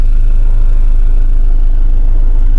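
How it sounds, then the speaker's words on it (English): A 1996 Honda Integra Type R four-door DB8 idles on its original exhaust, giving a steady, even low drone with a constant hum and no revving throughout. "This is the original exhaust"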